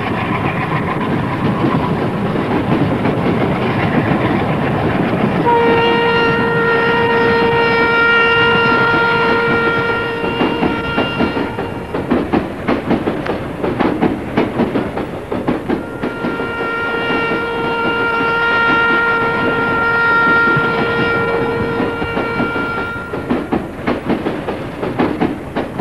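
A moving passenger train clatters steadily on the rails, loud and continuous throughout, with long sustained horn-like tones sounding in two stretches over the rolling noise.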